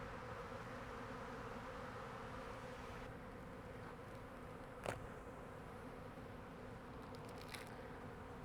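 Bees flying in and out of an urban beehive in Ottawa, a steady, dense buzzing drone heard up close, with a brief knock partway through.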